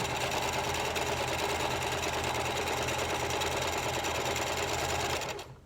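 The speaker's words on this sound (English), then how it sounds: "I'm gonna go ahead and just sew around the edge here" A sewing machine runs steadily as it stitches around the edge of a cloth face mask. The whirring is close and even, then stops abruptly near the end.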